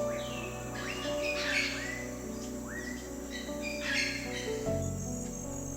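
Birds in Costa Rica after rain sing and chirp in bright, repeated rising whistles and trills, fairly close and clear over a steady insect hum.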